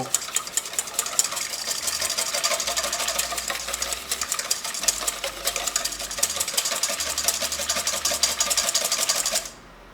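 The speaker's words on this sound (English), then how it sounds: "Whisk the eggs as fluffy as it can go." Eggs are whisked for cupcake batter, giving a steady, close whirring buzz with rapid rattling texture that runs unbroken for about ten seconds and then cuts off abruptly.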